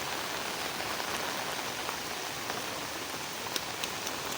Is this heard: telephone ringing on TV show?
no